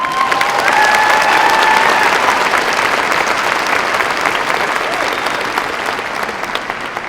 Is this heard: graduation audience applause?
yes